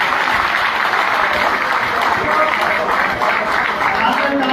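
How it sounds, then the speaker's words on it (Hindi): Sustained applause from a large crowd welcoming the chief minister at a contract workers' conference in Karnal, a dense, steady roar of clapping that holds loud throughout with a voice faintly underneath. "एक बार जोरदार तालियों से मुख्यमंत्री जी का स्वागत करें"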